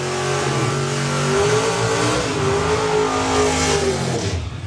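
Drag racing car at a drag strip event doing a burnout, its engine held at loud, steady high revs with a sustained roar throughout and slight pitch shifts, no talking.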